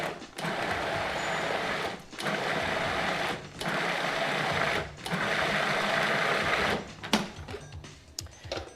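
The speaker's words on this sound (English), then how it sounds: "Once you have it in the food processor, we're just going to pulse it a few times." A food processor pulses cooked sweet potatoes for a gratin in several bursts of loud, close motor whir about a second or two long, separated by brief pauses, ending with a few clunks.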